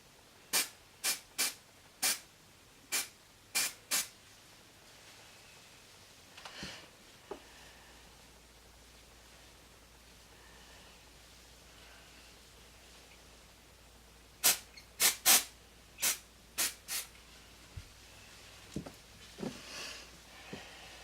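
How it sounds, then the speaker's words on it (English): A pump bottle of leave-in conditioning mist sprays onto hair in quick bursts, a rapid run of about eight close, hissing squirts, a pause, then another cluster of similar squirts. "I'm gonna spray some of this on it. It's just a leave-in conditioning mist"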